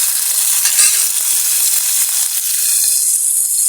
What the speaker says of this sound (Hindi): अब हम इसमें टमाटर डालेंगे, नमक मिर्च हल्दी डालेंगे।